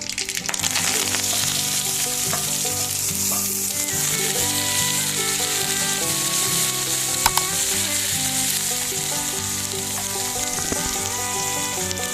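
Onion and curry leaves sizzle steadily in hot oil, a loud continuous crackle with occasional stirring, under faint background music.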